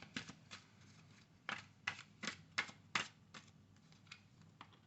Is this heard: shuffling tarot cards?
yes